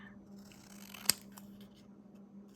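Scissors snip paper once in a quiet room, a single sharp close cut over faint steady background hum.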